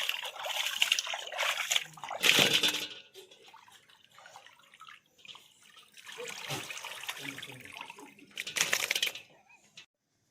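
Chicken liver is washed by hand in water, with splashing and trickling in repeated bursts, some louder and some softer, at close range.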